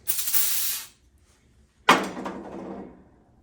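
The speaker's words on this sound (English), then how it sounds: "Hit it with a little bit of carb cleaner." Carb cleaner sprayed into the carburetor of a gas engine on a Morrison stand-on concrete buggy, two close hissing spray bursts, the first about a second long, the second sharper and trailing off.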